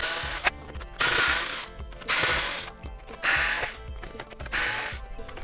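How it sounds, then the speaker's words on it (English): A power drill backs long black screws out of an Xbox One console housing, making a series of short, close whirring bursts roughly a second apart with a clicking, ratcheting texture. "Here is our drill. Then we're going to remove those black long screws."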